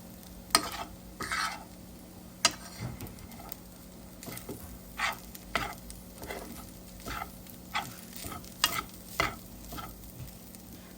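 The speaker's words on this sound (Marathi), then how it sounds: "हा राईस टाकते आणि याला छान असं आता मिक्स करून घेऊया." Cooked rice being stirred and mixed in a frying pan with mushroom burrito filling, a quiet series of spaced scraping and squishing strokes, roughly one every second, close by over a faint sizzle.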